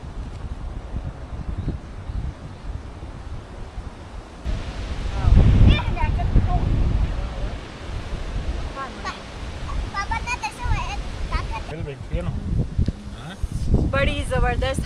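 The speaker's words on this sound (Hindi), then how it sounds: "बड़ी ज़बरदस्त हवाएं चल रही हैं" Strong, gusty wind rumbles outdoors during a cold-weather village barbecue as light rain begins, buffeting the microphone beneath a person talking.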